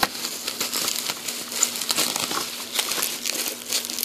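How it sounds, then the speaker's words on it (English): Bubble wrap is pulled and peeled off a package, a loud, continuous crinkling and crackling with sharp irregular bursts from start to end. "I apologize if I'm ruining any of your ears with the taking off of bubble wrap."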